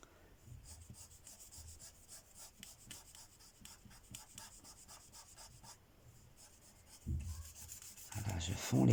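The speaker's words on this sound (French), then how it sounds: "je vais essayer de fondre les couleurs entre elles" Pentel oil pastels being blended on paper, a soft continuous rubbing and scratching with quick back-and-forth strokes, close and quiet, growing a little louder near the end.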